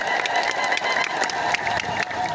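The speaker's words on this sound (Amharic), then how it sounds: "በኢትዮጵያዊነት ኢትዮጵያ የሆናችሁ አጨብጭቡ" An Orthodox church congregation applauds during a sermon, a steady, loud mass of clapping from a large crowd with a busy, continuous texture throughout.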